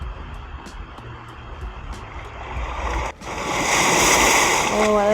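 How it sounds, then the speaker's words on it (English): Ocean waves sound effect from Canva: a soft wash of surf builds and grows louder in the second half, continuous and noisy, with faint clicks early on. "So there's even sounds like ocean water sounds"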